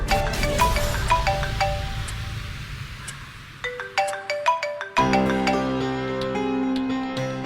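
A phone rings with a melodic electronic ringtone in a Hindi crime drama. The repeating tonal phrases play alone and fairly loud, shifting to a fuller, richer pattern partway through.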